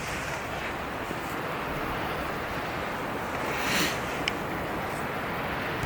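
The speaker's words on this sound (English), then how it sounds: "It's too windy to keep it here" Strong wind blows steadily outdoors, buffeting the microphone with a constant loud roar and a slight gust near the end, with no talking.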